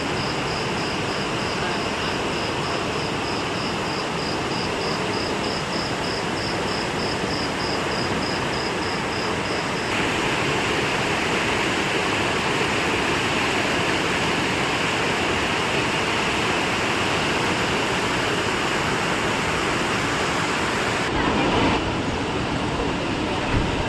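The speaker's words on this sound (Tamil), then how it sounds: "மெயின் அருவி மற்றும் 5 அருவிகளில் தண்ணீர் ஆர்ப்பரித்து கொட்டுவதால்" Courtallam's Main Falls in Tenkasi, swollen with southwest monsoon floodwater, gush in a dense, unbroken roar that holds steady and loud throughout, with no clear voices.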